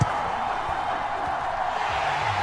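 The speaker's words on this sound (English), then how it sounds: "And this Houston Texan crowd is back." A football crowd in the Madden NFL video game roars after a Houston Texans touchdown, a steady, dense wash of cheering that holds at one level for the whole short stretch.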